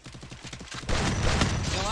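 Rapid bursts of video game gunfire, first a quick rhythmic volley, then a louder dense barrage filling the second half.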